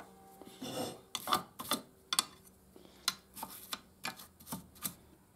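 Scrubbing and rasping strokes on a Stihl TS 420 concrete saw part to remove surface rust after the saw ran without oil, a series of short, close, irregular scraping bursts with brief pauses between them.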